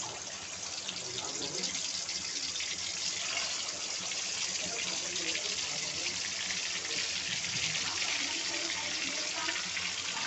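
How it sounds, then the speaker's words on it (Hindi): Chicken pieces fry in hot oil in a karahi, giving a steady, even sizzle that stays moderately loud and unbroken for the whole stretch with no other sound. "ये थोड़ा गर्म हो चुका है, अब इसमें चिकन के पीस डालेंगे।"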